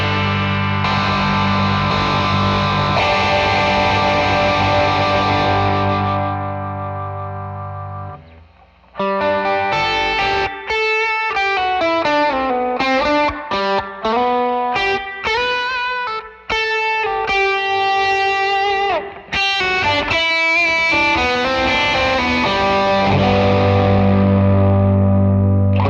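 PRS SE Silver Sky electric guitar played through gain, with sustained overdriven chords giving way to a bright, fast melodic lead line and then ringing chords again, loud and up front with light effects and no talking.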